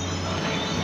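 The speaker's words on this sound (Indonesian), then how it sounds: "Nah, ini ada kereta" Freight train hauling minerals on the Norway to Sweden route, passing close with steady rolling rail noise and a high wheel squeal, with no talking.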